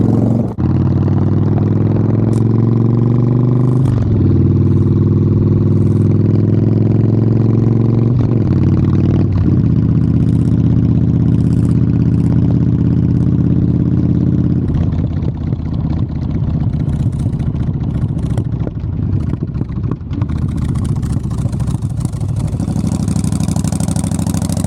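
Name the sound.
Yamaha XVS 1100 Dragstar motorcycle engine revving and idling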